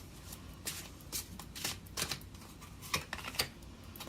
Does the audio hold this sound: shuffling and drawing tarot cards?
yes